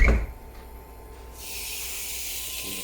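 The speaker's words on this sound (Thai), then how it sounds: "จะยินเสียงฉาของเนื้อถูกต้องแล้วครับ" A sharp clatter, then a steady loud hiss of Wagyu beef sizzling in a hot pan that starts suddenly and holds evenly, close by.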